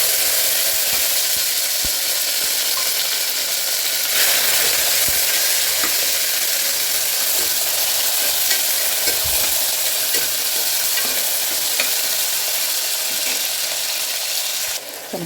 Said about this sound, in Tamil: நம்மளோட வெங்காயம் தக்காளி நல்லா வதங்கிடுச்சு.